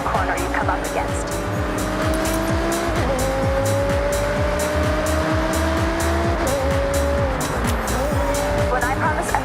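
A V10-powered Audi R8 supercar in a driving game, its engine droning steadily at high revs with gear shifts and rising pitch sweeps, tire squeal and rushing wind throughout, loud and close.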